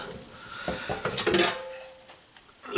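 A metal kettle pot from a BioLite camp stove is handled, giving a few close clinks and light metallic rattles that peak briefly in the middle, then quiet.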